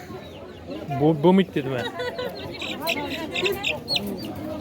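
Chicks and chickens cluck and cheep at a busy poultry bazaar in Beruniy. The birds sound close and keep going under steady talk and haggling among the traders.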